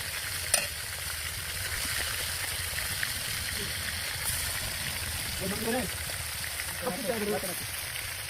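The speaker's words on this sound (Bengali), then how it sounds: "মাছ ভাজা শুরু হয়ে গেল।" Cheng fish crackles and sizzles in hot oil with a constant bright hiss, a sharp clink near the start, and brief voices talking over the frying.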